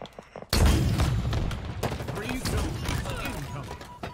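A rocket blast in the video game Halo Infinite hits with a sudden loud boom after a short quiet, followed by a rumbling, crackling tail of battle noise and gunfire.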